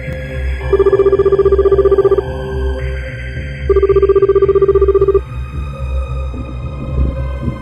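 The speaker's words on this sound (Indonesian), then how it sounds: "Udahlah, mending saya telepon si Grace aja deh." A phone ring tone in the video game Sakura School Simulator sounds in two long electronic bursts separated by a pause, over a low background hum.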